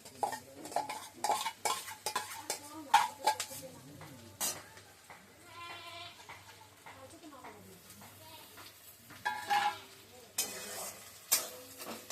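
Dried fish frying with onions in mustard oil, with intermittent sizzling and scraping stirs under frequent nearby talk and clinks of utensils against the pan.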